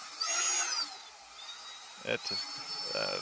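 A DeWalt drill turns a bending bit slowly through its workpiece, giving a steady, high whine with some pitch glides and a few short knocks near the end.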